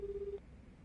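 A telephone key tone during a tense phone call in the video game Like a Dragon Gaiden: one steady beep lasting under half a second, then only quiet room noise.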